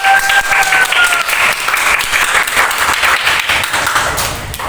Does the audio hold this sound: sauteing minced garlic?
no